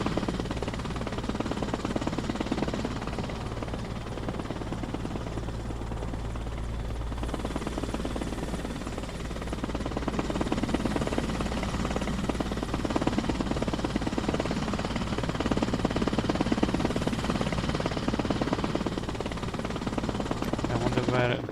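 A helicopter in a military video game drones steadily in the background, a continuous rotor and engine rumble that persists throughout under intermittent talking.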